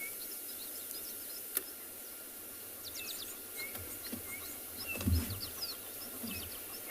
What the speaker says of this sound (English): And all the various different bird sound.